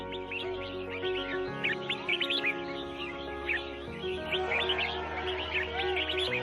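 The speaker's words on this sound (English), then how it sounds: "people have gathered to sell exotic birds, illegally captured in the rainforest, sold for the highest bid, and here participating in a bird singing competition" Many exotic birds, illegally captured in the rainforest and sold at an Asian marketplace bird-singing competition, chirp and trill together in a dense, continuous chorus of overlapping tweets and whistles over a steady tonal background hum.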